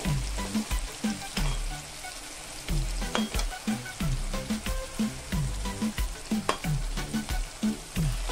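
Dal sizzles and fries steadily in a hot pan with ginger, while a spoon scrapes and stirs it in repeated strokes; loud and close, with no talk over it.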